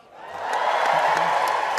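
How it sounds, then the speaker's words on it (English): Audience at a Britain's Got Talent audition breaking into loud clapping and cheering, building quickly and holding as a dense, steady roar of applause with whoops. "Don't clap, Simon, don't clap."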